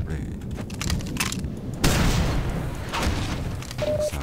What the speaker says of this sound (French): Ça commence à canarder là